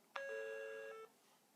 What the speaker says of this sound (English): that chime means pretty much end of definition